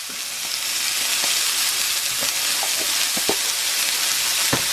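Ground beef frying in oil in a cast iron pan, a loud continuous close sizzle with occasional sharp crackles and pops, no voices.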